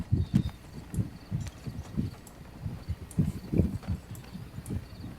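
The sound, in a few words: horse galloping sound effect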